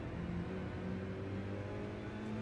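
A Toyota Group 4 race car engine laps Laguna Seca in a Clubman's Pro-Am round, droning steadily and loud with sustained harmonic tones and no break or voices.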